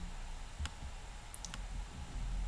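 A few sharp computer mouse clicks, spaced apart, sound faintly over a low steady background hum while someone works through an Excel spreadsheet.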